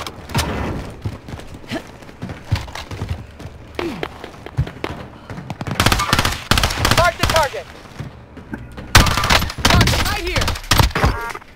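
Bursts of gunfire in Warzone battle royale arrive in rapid clusters, some near and loud, others more distant, spread across a long stretch with game sounds and movement between them.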